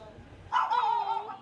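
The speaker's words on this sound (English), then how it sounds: "He thinks he's a guard dog." A small dog yaps and whines in a sharp, high burst lasting about a second, close by, after a quiet moment, in a busy narrow alley in Saigon.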